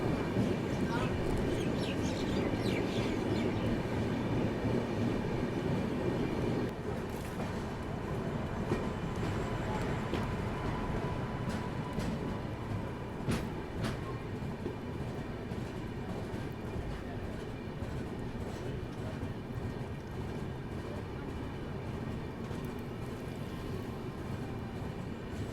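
Secunderabad Duronto Express runs steadily on rails near Bina Junction, a continuous rumbling roar with faint rhythmic clatter and occasional sharp clicks, sustained throughout.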